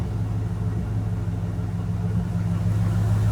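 A 1977 Ford Bronco engine idles through its dual exhaust with a deep, even rumble. Steady and close, with no voices.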